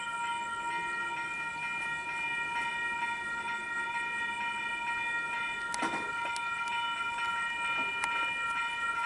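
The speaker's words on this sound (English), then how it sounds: "these bells randomly start going" Warning bells at Wondabyne railway station in Sydney ring as a train approaches, a sustained tonal chiming with sharp metallic strikes, heard alone at a moderate distance over an open outdoor setting.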